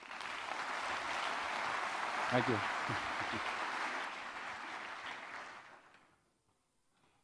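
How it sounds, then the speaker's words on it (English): Applause from a symposium audience fills the room for several seconds, steady and dense under a brief spoken thanks, then fades out abruptly near the end. "Big applause"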